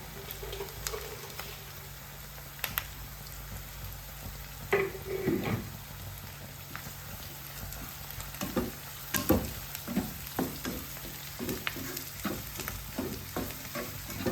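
Green chillies sizzle and fry in a pan for a curry, a steady crackle with a few louder stirring clatters and spits, close and alone with no talk.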